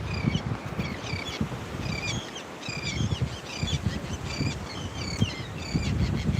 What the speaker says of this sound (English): There's some seagulls fighting up over my head.